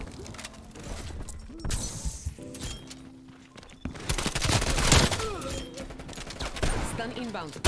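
Automatic gunfire in Call of Duty Cold War rattles in bursts amid mechanical clanks and impacts, loud and close, with a voice talking over parts of the action.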